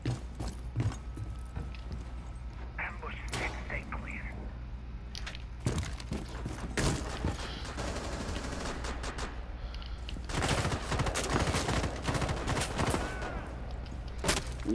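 Bursts of automatic gunfire and single shots from an online shooter video game, loud and close, in rapid uneven volleys with mechanical clatter, over a constant low background rumble.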